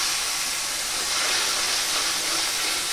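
A mixture of taro leaves and mango fries in a pan, giving a steady, even hiss of sizzling oil that stays close and constant, with no talking over it.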